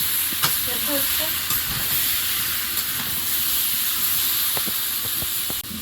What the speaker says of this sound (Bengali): এবার একটু টমেটো বাটা এর উপর দেবো আর একটু নেড়ে ফেলে দেবো